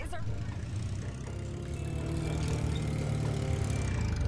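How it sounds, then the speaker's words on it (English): Tractor engine running in The Simpsons Hit & Run video game, a steady droning motor hum with a buzzy low rumble throughout, fairly close and unbroken, with no talking. "And the engine sounds pretty good."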